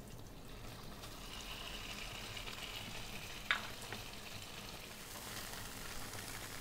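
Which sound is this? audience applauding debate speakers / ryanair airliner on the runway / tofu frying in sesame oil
tofu frying in sesame oil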